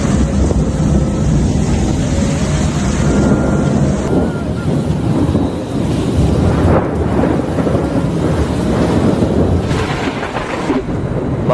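Heavy thunder rumbles during a rainstorm in Saudi Arabia near Mecca, low and booming beneath a steady roar of rain and gusting wind buffeting the microphone throughout.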